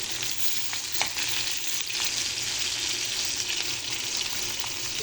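Eggplant fries in hot oil with a dense, continuous sizzle and faint stirring crackles throughout, close and loud with no talking.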